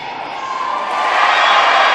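Volleyball fans in the bleachers at a championship match roar as a dense, rising crowd cheer that swells and holds loud across a large exhibition hall.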